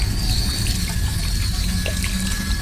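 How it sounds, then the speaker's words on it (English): Bathroom sink tap running, a constant hiss and splash of water that holds steady throughout, with no one speaking. "You would hear the sink turn on."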